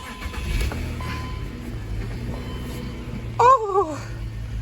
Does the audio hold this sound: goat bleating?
no